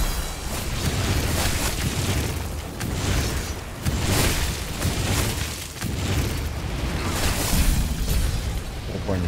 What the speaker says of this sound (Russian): Они взрываются еще, да.